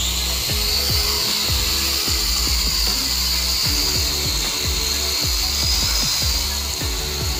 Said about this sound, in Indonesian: Drone dapat terbang dengan baik ya.